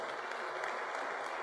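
A church congregation breaks into dense, sustained applause on Palm Sunday, many hands clapping together in a steady, full wash of sound that fills the room.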